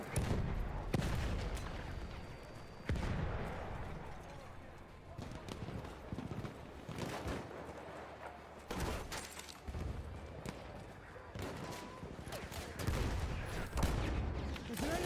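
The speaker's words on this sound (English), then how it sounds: "There's an enemy machine gun." Enemy machine gun fire in a Battlefield video game, rattling in bursts amid a dense, noisy battle mix with clattering impacts, while a voice talks over it throughout.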